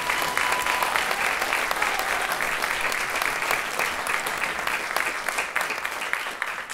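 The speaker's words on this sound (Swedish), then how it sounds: "Ge han en extra stor applåd." Applause from the audience at a charity fundraising concert for refugee children: loud, continuous clapping from a full crowd that holds evenly for several seconds with no voices over it.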